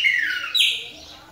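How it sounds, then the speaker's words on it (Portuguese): A female chopi blackbird (pássaro preto) sings a few bright, close whistled notes, one rising sharply before a sliding phrase that fades out. "É um pássaro preto de ouro, menina."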